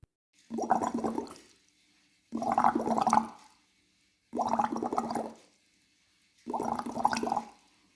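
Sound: short gurgling with water

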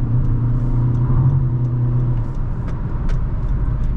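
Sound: Honda WR-V RS 1.5 car driving and overtaking

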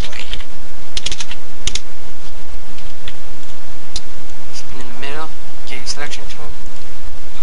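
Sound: typing text on a computer keyboard

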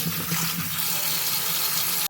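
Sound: washing potatoes in water

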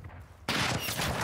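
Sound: sniper gunfire in video game Call of Duty Modern Warfare 2

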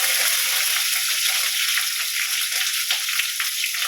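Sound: small onions and curry leaves frying in oil

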